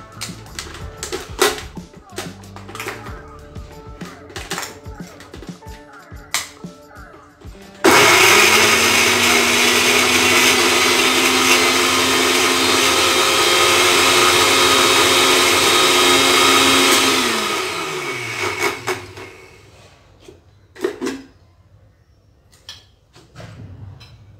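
A kitchen mixer grinder chopping onion and ginger roars steadily for about ten seconds and then winds down, coming after clattering handling noises, with a person talking before and after.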